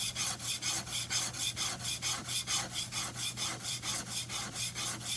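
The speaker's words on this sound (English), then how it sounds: "They actually sharpen it just like this, all day, all night" A blade is sharpened on a 600 grit whetstone with quick, even back-and-forth strokes, making a soft rhythmic rasping scrape, roughly three strokes per second, close by and alone.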